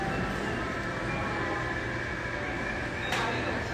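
Subway station ambience with a steady, close mechanical hum and low rumble throughout, with one brief higher swish near the end.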